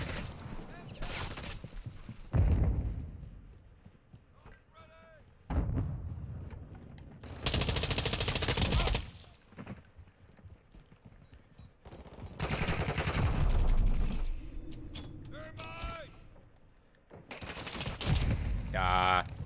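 Automatic gunfire in the Modern Warfare 2 beta, a multiplayer shooter, coming in several loud bursts of rapid fire separated by quieter gaps. A player talks in between the bursts.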